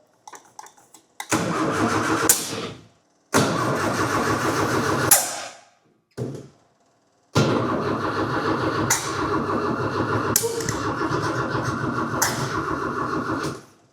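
A small workshop engine, with no throttle cable connected, is cranked by its starter button while throttle is added by hand: several short loud bursts of cranking and sputtering, then a longer run of roughly six seconds, with no talk.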